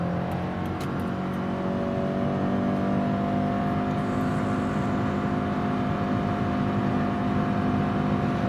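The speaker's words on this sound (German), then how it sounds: "So, und jetzt von 60 beschleunige ich einfach mal hoch," A 2018 Subaru Forester 2.0X Platinum with Lineartronic CVT speeds up from 60 in sport mode, its engine holding a steady, loud drone with no gear changes and no talk over it.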